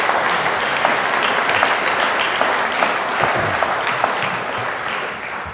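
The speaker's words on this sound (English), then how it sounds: "So give yourselves a round of applause" Sustained applause fills a dinner hall at a chamber of commerce annual dinner, a thick even wash of many hands clapping close by, holding steady for several seconds with no talk over it.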